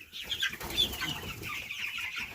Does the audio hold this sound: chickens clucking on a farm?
yes